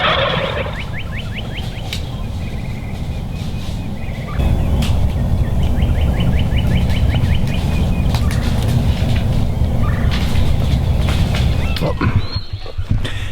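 Young wild turkeys (jakes) gobble in repeated rattling bursts in Kansas over a steady, loud outdoor background, several gobbles spaced across the stretch, moderately distant.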